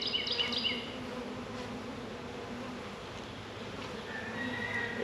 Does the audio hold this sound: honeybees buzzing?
yes